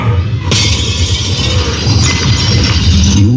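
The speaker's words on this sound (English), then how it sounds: "You won't just hear glass break." Glass shattering from a demo track played loud through a 240-watt Freepear party speaker: a sudden bright crash followed by a dense spray of tinkling shards and clinks over a low rumbling bed, with no talking.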